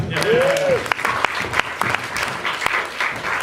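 Audience applause at a talk on transhumanism, a dense patter of many hands clapping with sharp individual claps standing out, mixed with crowd noise and a brief voice.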